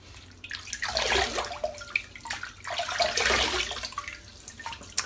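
Running water from a tap while a face is wetted before a wet shave, a broad steady rush that swells twice with splashing, heard up close with no talking.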